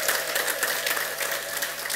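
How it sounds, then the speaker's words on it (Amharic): A church congregation in Munich claps in praise, a dense, steady wash of applause from many hands that stays loud for the whole stretch. "እልልታችሁን ጭብጨባችሁን ምስጋናችሁን ለእግዚአብሔር አምጡ"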